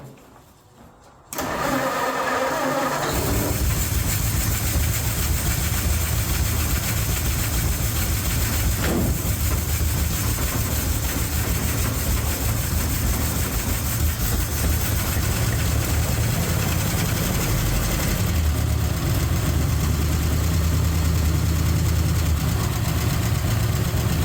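A 1951 Mercury truck engine starts, then idles on heavy choke. It runs loud and steady at close range, and its tone shifts slightly near the end.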